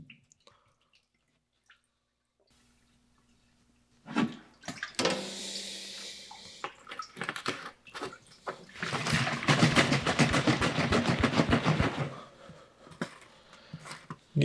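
Coolant pours from a jug into a Thompson surface grinder, with a burst of splashing and gurgling liquid that swells to a steady sloshing pour and then tapers off after a quiet start.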